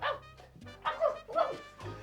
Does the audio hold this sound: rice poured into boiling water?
no